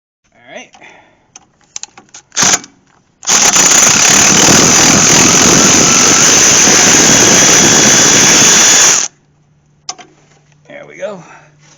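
A pneumatic tool runs in one long, loud burst of about six seconds, loosening a brake line bracket bolt on a Ford during suspension work. Brief clanks and shop noise come before and after it.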